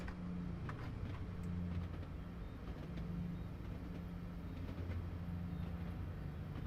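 A small locomotive rolls across a large bridge in Train Simulator 2020 on the Fife Circle Line, a faint steady rumble of wheels with a low droning engine hum that rises and falls.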